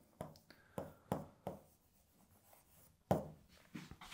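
Pen or marker writing on a board: a series of short scratchy strokes in uneven bursts, fairly close and moderately loud, with quiet gaps between strokes and no talking.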